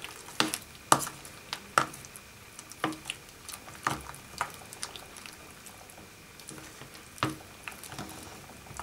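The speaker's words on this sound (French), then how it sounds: "Et donc je mélange." A spoon stirs yogurt in a bowl, giving a series of soft, irregular clicks and taps against the bowl over a quiet, faintly hissing background, with no talking.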